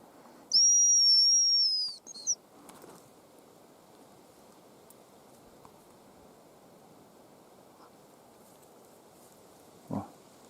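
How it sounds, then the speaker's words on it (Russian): A hazel grouse gives a single thin, high whistling call in a quiet forest near a logging clearing, followed by a brief chirp, a soft rustle and a faint knock against a low background hiss. "Рябчик свистанул."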